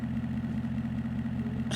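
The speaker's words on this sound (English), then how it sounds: "It's either an ATV or a motorcycle. It sounds like a dirt bike." A dirt bike or ATV engine sound effect in the game Metal Gear Solid: a steady, buzzing idle drone that holds an even pitch, close and continuous, with a brief bright burst at the very end.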